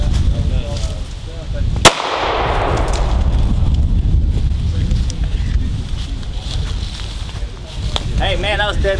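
A single sharp 9mm gunshot fired into a row of pumpkins outdoors, one loud crack early on followed by a fading rumble, with wind noise and distant talk running underneath.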